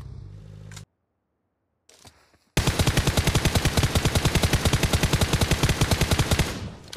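Rapid, loud automatic gunfire in a shooter video game, a long fast rattling stream of close shots after a brief silence, preceded by a couple of short noisy bursts.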